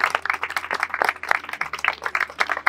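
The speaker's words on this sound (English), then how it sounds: "I want to do a round of applause for everybody who was here." A crowd claps steadily at a ribbon cutting and grand opening ceremony for an industrial park, a sustained, even patter of many hands at moderate distance with no voices over it.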